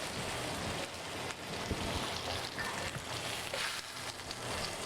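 Lamb chops sizzle and fry steadily in hot oil with whole sprigs of fresh thyme and rosemary and garlic cloves, a dense, continuous crackle close by with no talking.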